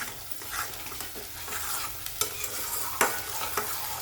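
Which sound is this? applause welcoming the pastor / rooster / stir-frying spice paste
stir-frying spice paste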